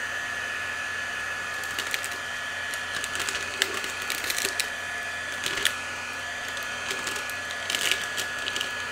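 A heat gun blows a steady, hissing stream of hot air to shrink plastic wrap around a tall, skinny sublimation tumbler, a constant close airflow with small crackles and ticks from the tightening wrap.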